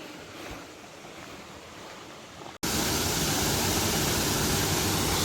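Waterfall on the River Mirna, a steady broadband roar of falling water that starts moderately and then jumps abruptly louder and closer after a brief dropout, continuing as a dense, unbroken rush.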